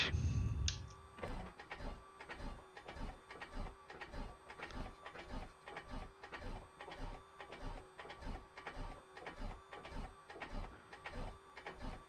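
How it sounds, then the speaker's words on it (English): The starter of a Piper Comanche 250 in a flight simulator cranks the engine in a steady, even rhythm of mechanical pulses, quiet and alone, after a brief sound at the very start. "Clear prop. And starter engage."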